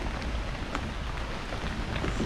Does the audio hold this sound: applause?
no